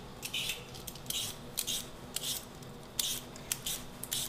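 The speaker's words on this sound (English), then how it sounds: "we're just gonna peel potatoes from mashed potatoes" Potatoes are peeled with a hand peeler, giving quiet, close scraping strokes in an irregular rhythm with short bright rasps between pauses.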